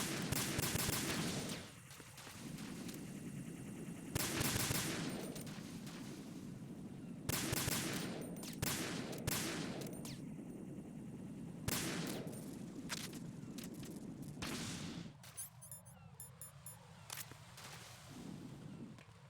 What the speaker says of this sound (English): Alright, now we got the USP. We can shoot these down.